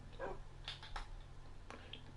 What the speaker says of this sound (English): That's another dog.